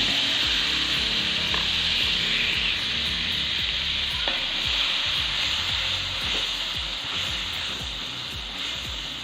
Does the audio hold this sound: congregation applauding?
no